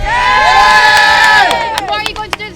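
A crowd at a dragon boat race gives a loud, close, high-pitched cheer with many children's voices in it, held for about a second and a half before it breaks into scattered shouts.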